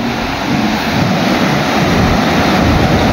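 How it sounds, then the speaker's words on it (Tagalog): Strong sea waves crash and roar continuously on the shore at Bayawan, Negros Oriental, a loud, steady surf wash with wind buffeting the microphone throughout. "Yan po yung alon mga kababayan. Napakalakas."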